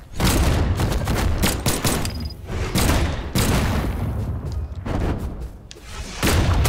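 Bomb explosions in the fighting video game Brawlhalla, loud repeated booming bursts in rapid succession over dense, constant game noise.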